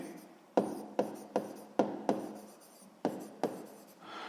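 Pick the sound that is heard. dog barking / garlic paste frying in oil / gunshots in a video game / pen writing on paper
pen writing on paper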